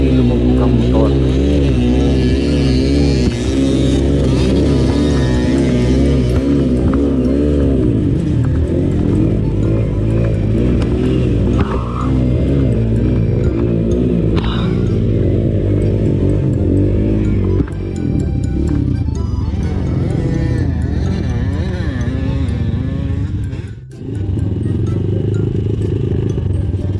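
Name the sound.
motorcycle riding through a river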